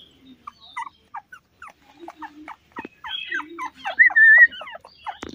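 Young Beagle, Shih Tzu and Pug puppies, about three weeks old, whimper and yelp in short high squeaks outdoors, a scattered run of close cries that grows louder with a longer whine toward the end.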